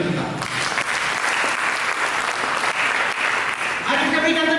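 A church congregation gives loud, sustained applause, many hands clapping evenly and close for several seconds before a voice resumes at the end.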